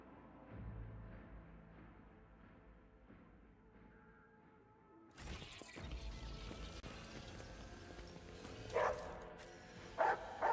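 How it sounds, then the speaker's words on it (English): A dog barks in the Warhammer 40K Rogue Trader video game, with a few sharp barks near the end over a dense layer of in-game ambience, music and mechanical clatter. "Dog is barking."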